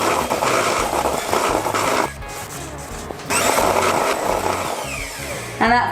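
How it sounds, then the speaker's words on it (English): A whisk beats mini baked donut batter in a mixing bowl with rapid, continuous scraping and sloshing. It pauses briefly partway through, then resumes and ends with a light clink against the bowl. "just beat that together with your whisk."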